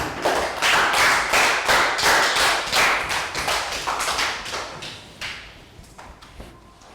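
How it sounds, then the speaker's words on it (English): Young pupils in a Year 3 classroom give a round of applause for a classmate: a burst of sharp, uneven hand claps that thins out and fades into scattered single claps. "Round of applause for Chew."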